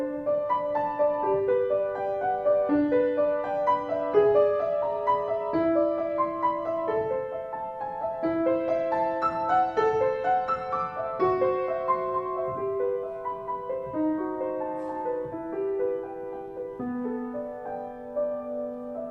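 A solo piano plays a flowing passage at a recital lecture, swelling gradually from soft to loud across several bars and easing back down to soft again, with no voices.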